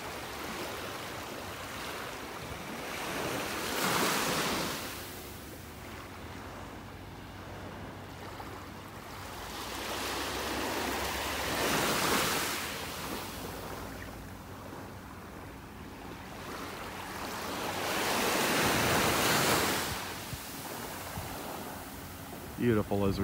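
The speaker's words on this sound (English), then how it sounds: "You can see the waves breaking on it out there." Ocean waves breaking on a shallow sandbar offshore at a beach in North Naples, Florida, heard as broad rushing surges that swell and fade roughly every seven to eight seconds, with a steady wash between and occasional talk nearby.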